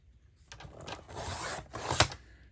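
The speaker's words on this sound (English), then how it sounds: "I'm going to go ahead and I'm going to trim that piece off." A paper trimmer cuts a piece of craft paper, making a short, close rasping slide that lasts about a second and ends in a small click.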